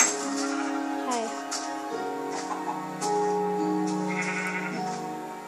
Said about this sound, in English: I'm not very good at leading sheep.